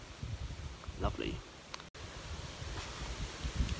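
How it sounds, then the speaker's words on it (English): Gusty wind buffets the microphone in low rumbling bursts outdoors, with a man smoking a Peterson pipe speaking briefly under the blustering noise. "It's really windy out"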